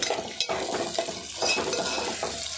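Onion and green chilies frying in a pan for a dried fish gongura curry, a soft continuous sizzle broken by repeated scraping and clinking stirs of a spatula against the pan, close and moderately loud.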